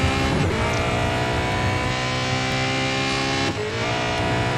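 Race car engine heard from the cockpit in the Real Racing 3 game at the Red Bull Ring, a loud sustained drone with rising revs and quick gear-shift dips, constant and close.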